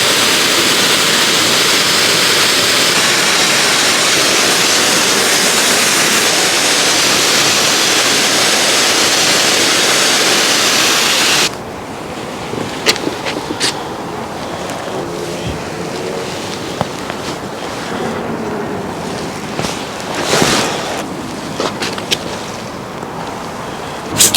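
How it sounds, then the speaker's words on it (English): A jet of deionized water rinses a Mercedes car: a loud, continuous hiss of spray for about half the time, then stopping, leaving quieter drips, splashes and scattered knocks. "For our final rinse now, we're going to use deionized water, and we're going to jet the whole car"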